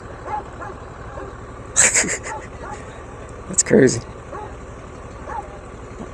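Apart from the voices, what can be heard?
dog barking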